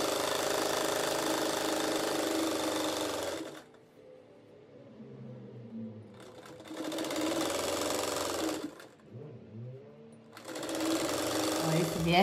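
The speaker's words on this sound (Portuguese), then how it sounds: "E aqui eu venho onde eu terminei e começo dobrando no meio e fazendo uma costura" A sewing machine stitches 4 cm wide fabric bias binding around the edge of a tulip rug, running in three loud steady bursts. A voice talks in the pauses between them.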